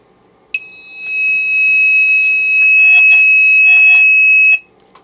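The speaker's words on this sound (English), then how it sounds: "So when the time turns 7:32, the alarm will go off." A homemade six-digit Atmel-based digital alarm clock sounds one continuous, loud, piercing electronic tone that lasts about four seconds and then cuts off abruptly.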